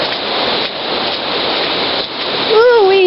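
Heavy rainstorm pouring down on a Pennsylvania home, a loud dense hiss of rain close by, steady throughout, with a brief voice joining near the end.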